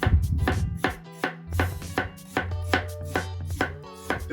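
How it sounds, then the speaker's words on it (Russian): A knife slices an onion very thinly into half-rings on a cutting board, making about a dozen crisp, close, fairly regular chops with short pauses and no talking. "Лук желательно нарезать как можно тоньше."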